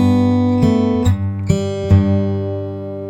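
A guitar plays a short fingerpicked back-and-forth pattern, opening on a plucked G, with a few distinct plucked notes ringing close and clear and sustaining between attacks.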